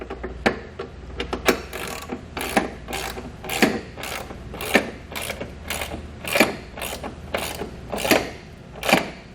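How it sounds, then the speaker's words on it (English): A hand ratchet with a 5/8 socket turns a nut while mounting nerf bars on a 2019 Ram truck, giving a repeated series of sharp clicking strokes in an uneven rhythm, close and clear with no talking. "So for this nut back here in the front, I'll use a 5/8 socket."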